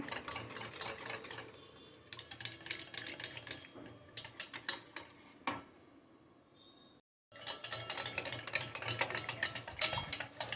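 Curd (yogurt) being whisked in a bowl for boondi raita, rapid clinking and scraping strokes in several bursts separated by short quiet pauses, close and fairly loud with no talking.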